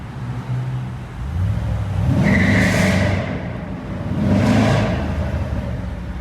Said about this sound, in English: Damn, I wish this car was louder.